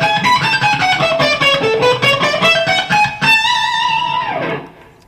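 A fast electric guitar lick in a classical style, played way up on the neck with a sweep-picked run, gives dense bright notes that end on a sustained note and a bending, descending tail before fading.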